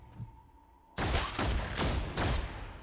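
Gunfire in the Warhammer 40K Deathwatch video game: after a quiet lead-in, a loud burst of rapid shots sets in, with three or four heavy blasts in quick succession carrying on to the end.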